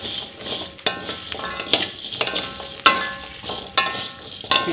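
Coriander seeds frying in a pan for soto daging give a constant close hiss and sizzle, broken every second or so by sharp scraping stirs, with no voices.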